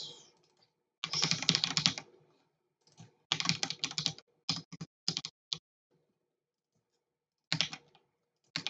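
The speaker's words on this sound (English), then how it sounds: "get a decent keyboard. Just feels so much better" Bursts of rapid typing on a computer keyboard, dense clusters of clicky keystrokes separated by silent pauses, close and clear with no voices.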